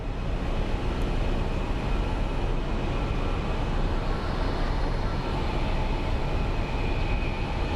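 Jet airliner taking off at Phoenix Sky Harbor International Airport, a steady, loud broadband roar that holds constant throughout, with no voices over it.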